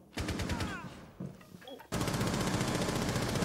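Rapid gunfire in Rainbow Six Siege: a burst of automatic shots, a short lull with faint sounds, then a loud, sustained stream of fire. Players talk over the shooting.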